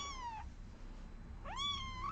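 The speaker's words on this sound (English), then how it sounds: "Here's the TJ kitten" A kitten gives two clear, high meows about a second apart, fairly faint against a steady background hum.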